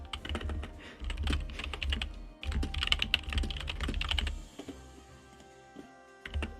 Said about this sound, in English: typing is a struggle